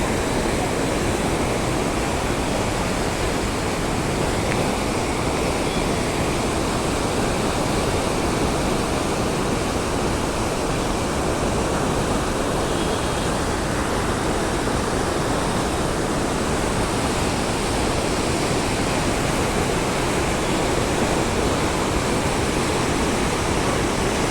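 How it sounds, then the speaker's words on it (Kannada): Water let out of KRP Dam at Krishnagiri roars in a dense, unbroken rush, loud and steady throughout with no break or voices. "ನೀರನ್ನು ಉಸಾಯಕ್ಕೆ ಬಿಟ್ಟಿದ್ದಾರೆ ನೋಡಿ."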